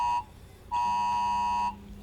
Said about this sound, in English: We have an alarm.